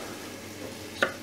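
Filet mignon searing in a hot pan, a soft steady sizzle with one sharp crackle or pop near the end, no voices.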